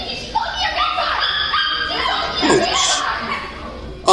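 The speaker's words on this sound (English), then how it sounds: "Oh, the dog." A dog yips and barks in short bursts mixed in with people laughing and chuckling nearby, the barks partly buried under the laughter.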